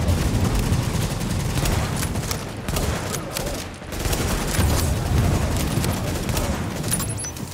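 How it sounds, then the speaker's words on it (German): Dense, sustained gunfire in The Division, sniper shots fired at heavy tank enemies during a tough mission, a continuous loud barrage of overlapping shots and blasts with no speech. "Ey, ich schieß auf die Tanks und die fressen Sniper-Schüsse en masse."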